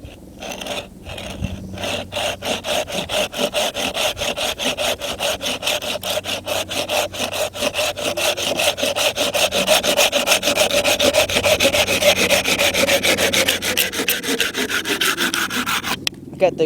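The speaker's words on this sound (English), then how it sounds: "These Laplander saws are freaking awesome." A Laplander folding saw cuts through a branch of wood with a steady, rapid back-and-forth rasping that runs without pause and stops just before the end.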